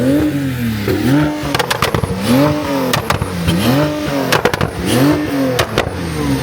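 A supercar engine revs hard at a Dubai roll race, several loud rising-and-falling blips in quick succession with sharp crackles between them, close by and alone without talk.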